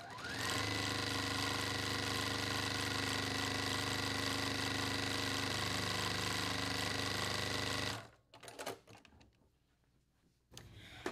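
A Juki sewing machine stitching quilt fabric runs as a steady, loud mechanical whir for about eight seconds, then stops, leaving faint handling clatter.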